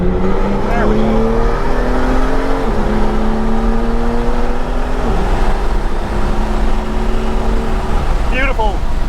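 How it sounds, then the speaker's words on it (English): Exhaust of a 2021 BMW M3 on a race track, heard from inside with the windows down: a loud continuous engine drone rising through gears with shifts, under brief talk. "the other setting, is for the exhaust. We're going to lower down the windows so really be able to hear it."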